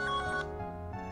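A telephone rings with a bright electronic tone, one short burst that fades into a lingering hum, quiet and nearby.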